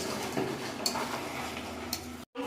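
Mutton and potatoes being stir-fried together in a pan for a Bengali kosha goat curry, giving a steady low sizzle with soft scraping stirs and a few sharper utensil clicks, close and moderately quiet, ending in a brief silence.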